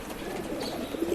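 Rekdhar pigeons cooing close by in a soft, steady low murmur, with a few fuller coos swelling near the end.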